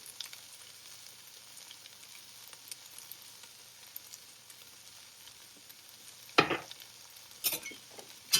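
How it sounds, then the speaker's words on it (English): Shakshuka mixture with herbs like oregano and tarragon stirred in a pan: a faint, steady sizzle with scattered soft scrapes, then a few louder spoon clatters toward the end. "You want to stir and mix all of this together"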